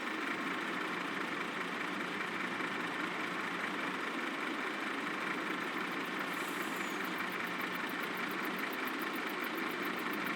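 A semi truck engine idles in the video game Farming Simulator 22, a steady, even mid-range rumble that runs continuously at moderate level with no talk.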